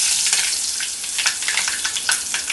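Curry leaves sizzle in hot oil, with mustard seeds already popped, for a beetroot thoran, giving a steady, close, bright crackle with small spitting pops throughout and no voices.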